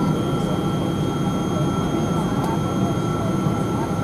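Thai Airways Boeing 777-200 airliner beginning to roll on the runway, heard from inside the economy cabin as a steady, broad rumble of engine and wheel noise with a faint tonal whine throughout.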